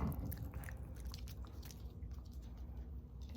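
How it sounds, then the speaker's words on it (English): A puppy chewing a treat, soft wet biting and mastication sounds repeating steadily, faint and close in a quiet indoor setting with no talk. "You're still chewing."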